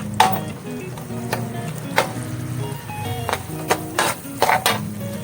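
Pork cubes dropped into a hot pan for kare-kare give a soft, steady sizzle, broken by scattered clinks and scrapes of cookware at close range.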